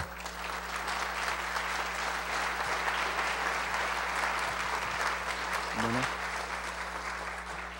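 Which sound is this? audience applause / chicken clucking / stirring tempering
audience applause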